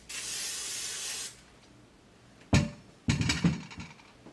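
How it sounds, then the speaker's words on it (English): Cooking spray hisses onto a baking pan in one steady, fairly loud burst lasting over a second, followed by quiet and then clattering handling noises as the pan is moved. "I'm going to go ahead and spray the pan a little bit so that it doesn't stick"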